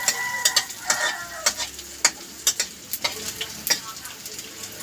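Garlic and red onion sizzle and fry in a pan, with a spoon or spatula stirring in repeated scraping clicks every half second or so, close up, under a steady frying hiss and no talk.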